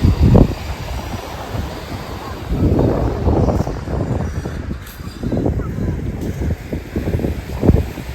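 A speed boat ride on the water near a beach, with a rushing motor-and-water roar that surges and eases under heavy wind buffeting on the microphone, and no clear talk.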